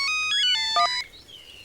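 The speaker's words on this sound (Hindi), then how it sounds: "पकड़, फोन आ गया।" A phone ringtone plays a bright, stepped electronic melody of repeating tones for about a second, then fades into quieter sustained tones, loud and close with no talk.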